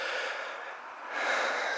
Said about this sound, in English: I'm panting because I couldn't get this thing kick-started.